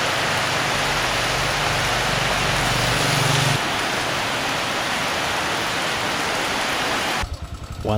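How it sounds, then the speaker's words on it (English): Heavy rain downpour in north east Vietnam, a dense continuous roar of water pouring down and drumming on surfaces, loud and steady throughout, with a low hum early on and a brief change in texture near the end. "There were a few drops of rain, which then turned into a heavy downpour."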